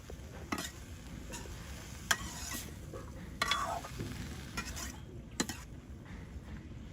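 Chili and spices are stirred in a hot pan for Bengali village-style cooking of icha fish with pointed gourd. It sounds like a steady close sizzle with scraping stirs and a few sharp clinks of a utensil against the pan.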